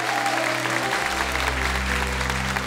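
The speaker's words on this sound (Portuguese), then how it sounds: "vamos aplaudir o padre Pierre Maurício" Applause from a church congregation for a priest at an evening praise service, a steady dense clapping that carries on throughout under a low sustained hum of music.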